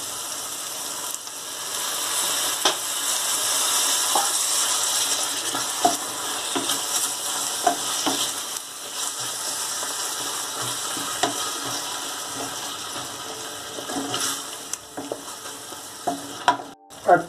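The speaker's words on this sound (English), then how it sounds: "Now add tomato here." Tomato is stirred into a frying brinjal and potato curry: a steady sizzle runs under scraping, clicking spoon strokes against the pan, with sharper clatters near the end and no voices.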